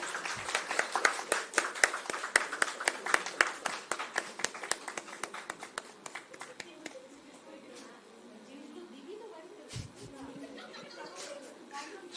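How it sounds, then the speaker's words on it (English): Applause at the Salaam Shakespeare 5.0 event at Sister Nivedita University, rhythmic clapping from a modest group that thins into scattered claps and fades, with faint talk and chuckling behind it. "A big round of applause"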